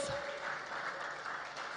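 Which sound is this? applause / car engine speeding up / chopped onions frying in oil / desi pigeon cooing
applause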